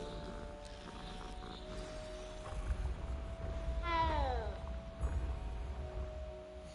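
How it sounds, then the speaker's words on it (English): A cat meows once with a clear rising-falling cry amid the steady ambient music and background hum of the Hogwarts Legacy video game. "Cat."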